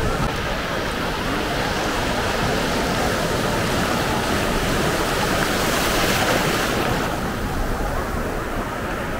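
Sea surf on Puri beach roars in a steady, dense wash of breaking waves close by, with wind buffeting the microphone and no clear talk.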